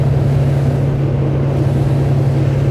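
Dromeas 28CC motorboat cruising at about 25 knots, a steady, loud engine drone with rushing water and wind, constant and unbroken with no talking.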